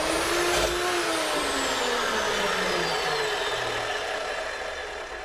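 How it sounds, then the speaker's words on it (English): Cold-cutting chop saw with a carbide blade slicing through 6061 aluminum extrusion, giving a steady, loud whining cut with a falling tone that slowly fades toward the end, with no voices. "6061 aluminum extrusion, cold cutting chop saw"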